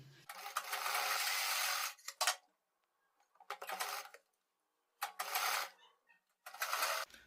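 Sewing machine stitching piping onto a sleeve piece, running in several fast whirring bursts of about one to two seconds each, separated by quiet pauses and small handling clicks.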